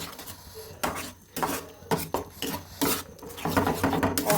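A utensil scraping and stirring mashed flat beans in a pan, with repeated scraping strokes and metallic knocks in an uneven rhythm, close and moderately loud, no talking.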